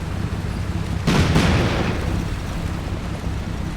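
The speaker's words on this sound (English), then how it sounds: "Using rocket grenades." Rocket grenade blast in the war game Combat Mission Black Sea, one heavy boom with a quick second hit over steady outdoor rumble, loud and close, fading into a long noisy tail.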